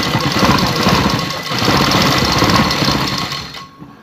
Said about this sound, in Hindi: सिलाई लगाते वक्त ध्यान रखेंगे किनारे के ऊपर ही सिलाई लगे